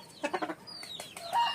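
Young rooster (stag), 11 months old, a Sweater gamefowl, gives a short run of four or five close clucks followed by a few sharper calls, alone with no talk.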